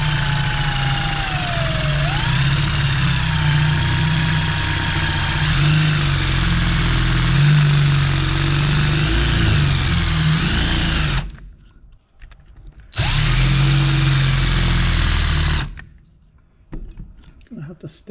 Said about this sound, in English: So I'll use my smaller drill now at least.